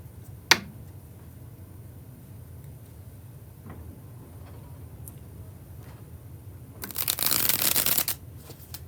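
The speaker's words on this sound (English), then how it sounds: "when I do the bridge shuffle, like I just did" Tarot cards get a bridge shuffle: a brief flick at the start, then a close, loud ripple of cards cascading together for about a second near the end, with quiet room tone between.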